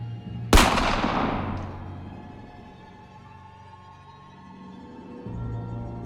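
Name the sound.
gunfire sound effect in a Batman motion comic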